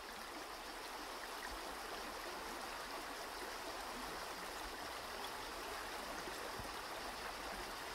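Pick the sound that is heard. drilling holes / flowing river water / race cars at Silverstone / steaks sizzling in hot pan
flowing river water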